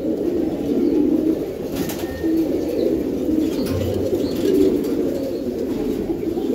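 A racing pigeon from a loft, ring number 10212, coos in low repeated throaty bursts, close and moderately loud, alongside other pigeons murmuring and a faint flutter of wings.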